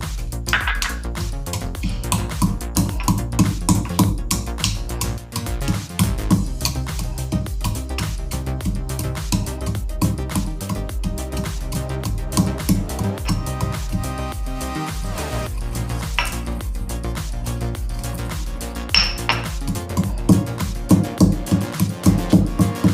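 Dry fruits pounded by hand for strawberry kulfi, a steady run of rapid, closely spaced thuds near and loud, continuing without pause, with no talking.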